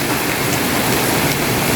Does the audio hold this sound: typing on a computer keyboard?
no